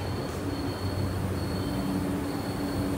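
The Night Queen Express, a Bengaluru-to-Mandya passenger train with sleeper coaches, rumbles and hums steadily at a Bengaluru platform, a constant, even drone with a thin high whine over it and no talk.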